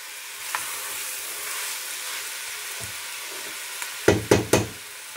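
Red wine poured into a pan of Bolognese sauce, raising a steady sizzle with faint stirring, then a few loud knocks of a spoon or pan near the end.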